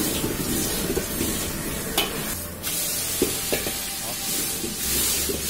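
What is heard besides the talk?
tofu pan-frying in oil, sizzling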